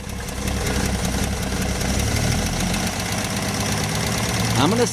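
A 1964 Rambler engine runs steadily after starting, a close, loud, even rumble with a faint knocking texture throughout and a brief rising whine near the end.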